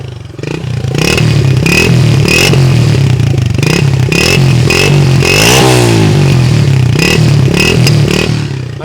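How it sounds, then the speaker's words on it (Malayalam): A Hero Splendor motorcycle engine idles loudly up close, its exhaust crackling with rhythmic pops and sharp bursts, plus a brief rev in the middle. "ഇതാണ് ഇതിൻ്റെ എക്സോസ്റ്റ് നോട്ട് ആ ഒരു പൊട്ടുന്ന സൗണ്ട്"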